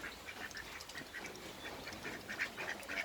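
A brown domestic duck quacks in a run of short, nasal calls at steady, moderate loudness close by, with no voices over it.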